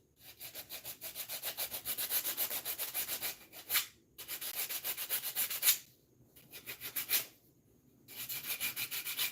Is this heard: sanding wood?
yes